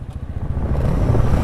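A motorcycle speeding along a road near Pashupatinath, a loud close engine growl that builds steadily, with no talking.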